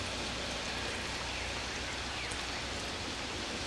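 Rain falls steadily in a garden as a dense, even hiss of drops, close and constant without pauses or voices.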